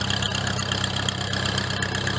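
An International Harvester Cub 154 tractor idles at a snowy homestead during a blizzard, its engine holding a steady, even chug with a low mechanical drone and no talking.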